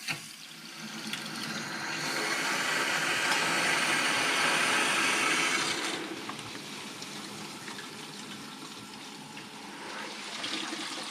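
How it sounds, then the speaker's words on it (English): Water rushes into whole-house salt-free filtration and descaler system tanks, a steady hissing flow that swells then eases to a quieter trickle, close by and with no voices. "you can hear our tanks filling"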